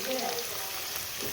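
Onions frying with turmeric and rock salt for mutton keema curry, a brief steady hiss of hot oil close by.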